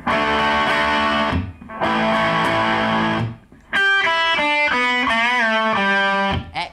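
A slow, heavily distorted electric guitar riff, played in slow motion, with sustained chords and bent notes, loud and gritty, with brief gaps between phrases.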